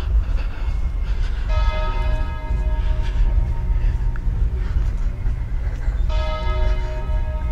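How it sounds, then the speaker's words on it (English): Ringing bells heard outdoors in a town street amid steady low traffic rumble, sustained metallic tones sounding in two bursts with a pause between, fairly close and loud. "The bells, the bells."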